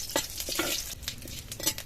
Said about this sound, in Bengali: চটচট করে আওয়াজ হচ্ছে।